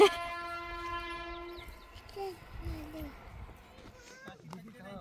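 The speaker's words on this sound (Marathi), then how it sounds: "ट्रेन आली ना जायचं आपण मध्ये" A train sounds its horn with a long tonal blast, then rumbles along while people talk close by.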